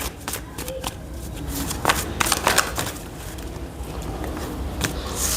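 A tarot card deck being shuffled, with soft riffling and flicking bursts over a steady background hiss, fairly close and moderately loud, with no speech over it.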